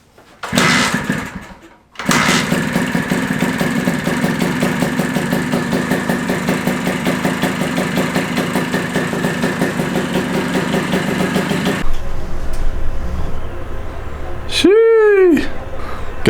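A 1982 Honda MB5 two-stroke motorcycle engine turns over after a short false start, then idles with a steady, buzzy two-stroke rattle before cutting to quieter background with a brief whining sweep near the end.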